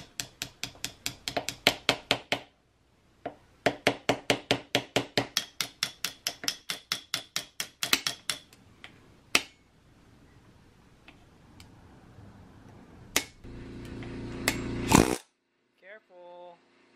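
An air hammer with a pointed tip bangs away at a Kawasaki KX100 rear shock to open it, firing in rapid bursts of sharp, loud repeated impacts separated by short pauses, then a longer buzzing run, with occasional talking.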